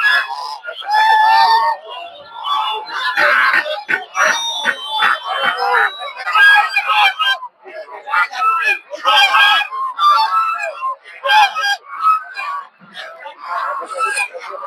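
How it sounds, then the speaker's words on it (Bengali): Native ducks at a crowded poultry market in Putia, Narsingdi, honk and quack in loud, overlapping bursts close by, with someone talking through the noisy flock. "এখানে অনেকগুলো হাঁস দেখতে পাচ্ছেন আপনারা।"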